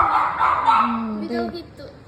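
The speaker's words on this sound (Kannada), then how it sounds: "ಯಾವುದೋ ನಾಯಿ ಯಾಕೋ ಬಂದ್ಬಿಟ್ಟಿದೆ ಈ ಕಡೆ" A stray dog gives a short whine followed by a quick burst of yips, close by and brief, mixed in with people talking outdoors.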